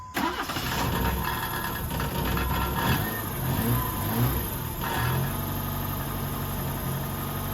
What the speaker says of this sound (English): That's the exhaust rattling on the car.